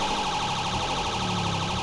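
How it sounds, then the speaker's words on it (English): A loud, continuous video game police siren wail fills the whole clip, steady and close, with no talk over it. "Turn off your siren."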